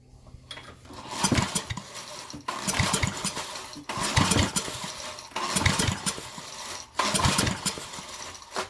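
A cheap 5k portable generator engine being pull-started with kickback: five separate rough cranking bursts, each a loud, close sputtering rattle that dies out without catching, with short pauses between tries and no talk.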